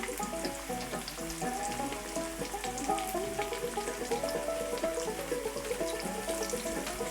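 Gluten-free southern fried chicken pieces deep-fry in hot oil, giving a dense, continuous bubbling sizzle with popping crackles that holds at an even level throughout.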